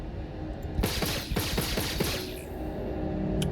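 A rapid burst of gunfire in the Star Citizen video game, a fast run of sharp, loud shots lasting about a second and a half, then quieter ambient hum.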